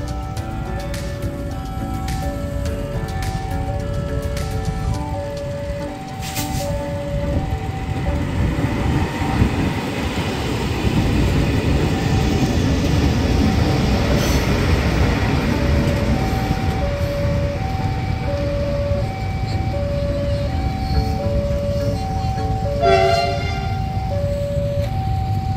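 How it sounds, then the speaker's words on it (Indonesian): A CC300 locomotive hauls a train from Ngerombo toward Solo Balapan, rolling past loud and steady with a continuous rumble and rail noise, a repeating pulsing tone throughout, and a few clanks and squeals along the way. "Ini dia yang kita tunggu-tunggu, pengiriman CC300 dari Ngerombo menuju ke Solo Balapan"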